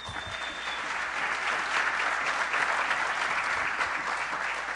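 An audience applauds for a football team at a finalist show, a sustained, loud wash of clapping throughout with only faint crowd noise beneath.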